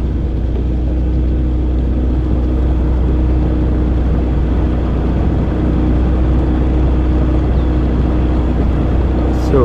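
A fishing boat's outboard motor running with a slight skip, a loud continuous low rumble filling the whole stretch with little variation, close to the listener.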